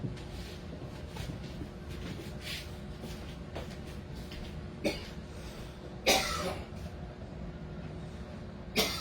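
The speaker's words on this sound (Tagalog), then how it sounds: "Ayan, umatake na naman." Several scattered coughs, one sharper than the rest, over a steady low background rumble.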